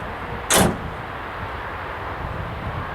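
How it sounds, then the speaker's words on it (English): A door on a 2014 Toyota Tundra 1794 Edition CrewMax 4x4 pickup opens with one short, sharp latch click that stands out from a steady low background hum. "So opening the door to the Tundra,"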